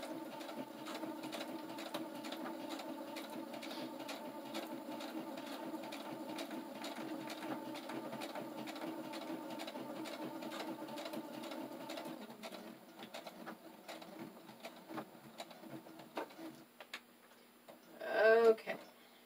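Sewing machine stitching locking stitches at the end of a fabric pouch, a steady rapid ticking rhythm at close range that slows and stops near the end.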